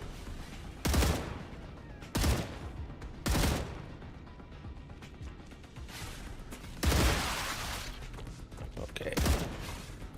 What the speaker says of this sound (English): A lot of them. They're all shooting.